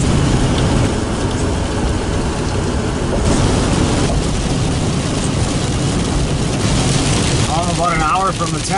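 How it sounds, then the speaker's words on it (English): Steady heavy rain drums on a vehicle while driving, a loud continuous wash with road and engine rumble beneath, broken only by a faint squeak near the end. "it's still raining"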